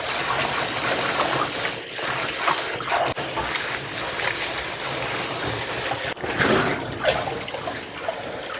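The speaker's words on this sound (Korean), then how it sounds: "요걸 바로 가서 찬물에다가 한번 헹궈 올 거예요" Blanched daylily greens are rinsed in cold water, giving continuous splashing and running water close up, with steady swishing and a few brief bumps.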